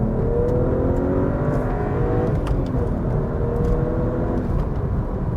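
A BMW-based sports car engine running in M mode, a steady, loud, continuous drone with rising and falling harmonic tones as it revs, heard alone without talk.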